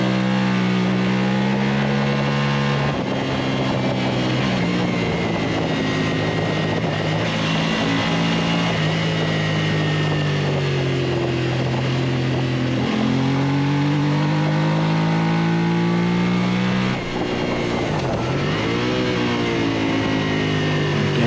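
Racing motorcycles at a novice track-day round, heard from aboard one bike: a loud, continuous engine drone that rises and falls through gear changes, with other bikes close by and no talk.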